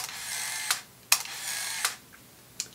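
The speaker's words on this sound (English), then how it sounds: "The film advances automatically. So, and that is the sound that you hear with this camera." Shutter clicks and the automatic motorized film advance of a compact Canon film camera: repeated whirring bursts punctuated by sharp clicks, close and clear with no voices.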